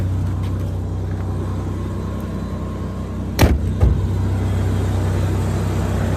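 A 1996 Ford Ranger XLT pickup truck engine idles steadily with a low rumble, interrupted midway by a couple of sharp mechanical clunks, fairly close, with no talking.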